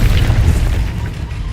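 In the Hogwarts Legacy video game, a Confringo blast spell bursts as a loud, deep boom, close and dominant, with a rumbling low-end body that fades slightly over its short length.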